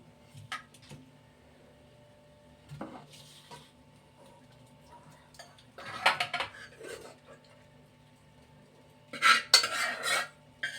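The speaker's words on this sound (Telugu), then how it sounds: "కూర తేండి గిన్నెలోకి వేసేస్తున్నాను" Mango and small fish curry is served from a pot into a bowl: sporadic metal spoon clinks and scrapes against dishes, separated by quiet pauses, with louder clattering bursts near the end.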